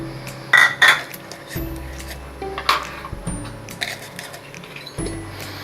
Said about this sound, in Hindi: जो मैंने खड़े गरम मसाले लिए थे वो भी मैं टमाटर में ऐड कर रही हूँ